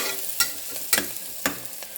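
Curry leaves drop into hot oil in a pan for a beetroot tomato curry, giving a quick crackling sizzle with a few sharp spattering pops, close and short.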